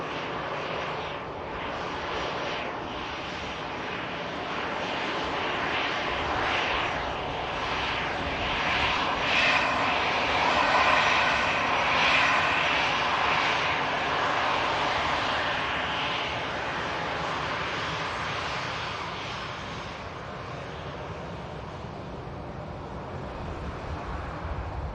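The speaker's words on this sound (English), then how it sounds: "the Turkish heading back to Istanbul, the 321" A Turkish Airlines A321 jet departing Manchester Airport for Istanbul builds a broad, steady engine roar that swells mid-way and tapers off, with some wind noise on the microphone.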